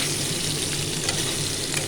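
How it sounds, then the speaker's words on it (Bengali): Potatoes frying in oil with turmeric give a steady, dense sizzle with faint stirring underneath, continuous and close, with no voices. "ভালো করে আলুটা ভেজে নেব হলুদ দিয়ে দিলাম"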